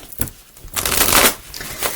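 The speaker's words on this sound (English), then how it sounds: "I'm going to shuffle that again." A deck of tarot cards being shuffled by hand, with a quick riffle, a pause, then a longer burst of rapid flicking and a few softer taps, close and alone.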